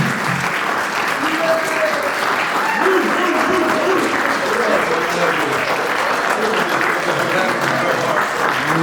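An audience at a standing event claps continuously, a loud, even wash of applause with scattered voices and cheers mixed in throughout.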